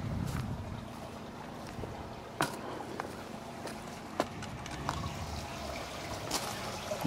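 Storm runoff water is pumped off a pool cover into an aquaponics grow dome, a steady trickling, gurgling flow with a few scattered clicks and knocks and no talking.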